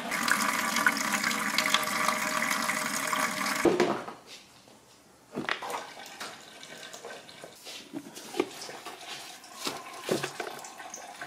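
Antifreeze draining out of a Ford Ranger truck radiator, a loud continuous gush of pouring liquid that cuts off abruptly, followed by quieter scattered drips and splashes.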